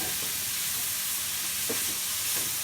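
Beef cooks in a hot pan with its juices, making a continuous, fairly loud hiss and sizzle with faint scraping underneath.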